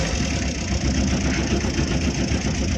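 A 2018 Tata Ace mini truck runs in third gear on a wet, rainy road, its engine a steady, slightly knocking mid-low drone heard from inside the cab, with no talk.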